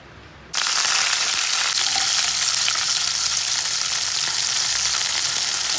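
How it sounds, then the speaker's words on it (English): Onions drop into hot cold-pressed coconut oil in a pan for a mushroom dish and burst into a loud, steady sizzle that starts abruptly and keeps hissing without a break. "onions ఎక్కువ వేస్తున్నా, ఎందుకంటే ఆనియన్స్తో మంచిగా టేస్ట్ వస్తుంది కాబట్టి"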